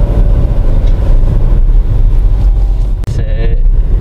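A Hyundai Kona's engine drones steadily while driving, a continuous low rumble filling the cabin, with a brief dip near the end before the hum resumes.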